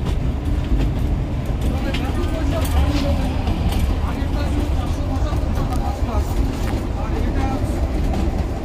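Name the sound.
Shimla–Kalka toy train running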